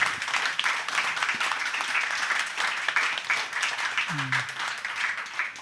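Audience applause at a Crypto Week Bali panel discussion, a steady, dense wash of clapping across the whole stretch, fairly loud, with a brief voice-like tone near the end.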